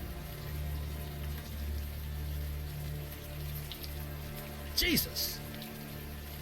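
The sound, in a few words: rain falling in the video game Unavowed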